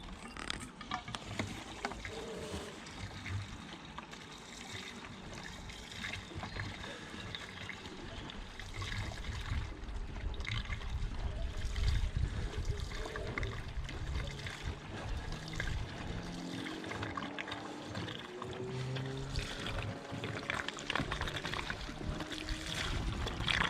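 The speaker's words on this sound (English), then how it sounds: "I'm just gonna put in a litre or two, or maybe just over a litre" Fuel poured from a container into the tank of a SIP Medusa Ti-1002 generator, a soft, continuous trickle and gurgle, faint and close, with no talking.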